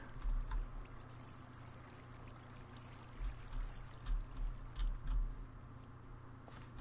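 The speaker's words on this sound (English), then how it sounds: "I kind of like this water flowing through here." Water flows through a small channel near a waterfall in Minecraft, a continuous soft gurgling pour with brief louder splashy bursts, heard alone without talk.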